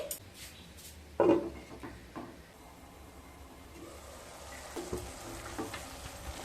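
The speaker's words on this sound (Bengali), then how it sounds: "লো টু মিডিয়াম স্টিমে মশলাগুলোকে ভালোভাবে কষিয়ে নিয়ে" Spices sauté for a vegetarian soybean curry over low to medium heat, a soft, continuous sizzle after a sharp knock of utensil against pan, with a few faint scrapes as the mixture is stirred.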